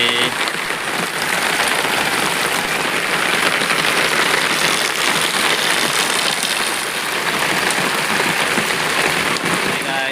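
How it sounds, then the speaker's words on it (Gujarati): Steady, heavy rain falls continuously on surfaces nearby, a dense hiss with scattered droplet patter and no pauses. "વરસાદ વધુ ચાલુ છે"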